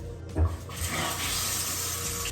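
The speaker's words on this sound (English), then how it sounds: "I have one finger crossed that water comes out and it doesn't like leak out of the bottom part" Tap water streams steadily through a newly fitted faucet filter, a continuous close hiss and splash after a brief thump at the start.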